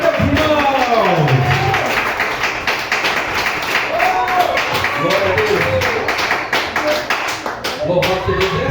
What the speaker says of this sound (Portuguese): Pode sentar, bater palmas da glória a Deus. Palmas da glória a Deus, irmão.